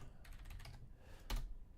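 Quick clatter of keys on a computer keyboard, faint and close, a burst of rapid typing followed by a brief pause and a louder keystroke cluster.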